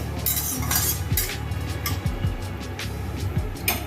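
A spoon stirring bay leaves and fenugreek seeds in hot oil in a pan, with scraping and clinking metal strokes repeating irregularly over a steady low hum, fairly quiet and close.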